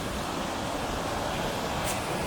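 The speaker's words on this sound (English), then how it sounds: "And there we have the waterfall!" A waterfall roars as a dense, steady broadband rush, loud and continuous, heard outdoors on a rainy hike with no voices over it.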